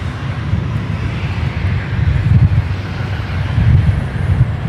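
A Virgin Australia Velocity Boeing 737 with CFM56 engines rumbles steadily at Brisbane Airport, a loud, continuous low engine roar with some wind buffeting the microphone.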